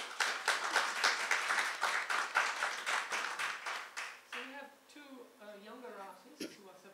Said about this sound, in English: So a round of applause for Manjeet Singh Gracia.